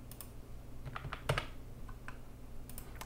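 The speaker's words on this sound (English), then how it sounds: "so I'm gonna go ahead and type that in." Computer keyboard keys tapped to enter an aquarium tank's water volume, a quiet run of scattered clicks with a few quick bursts and no one speaking.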